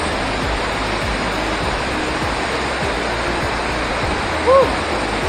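Hinipaan Falls in Mercedes, Camarines Norte, roars as a loud, unbroken wash of falling water close by, with a brief whistle-like sound near the end.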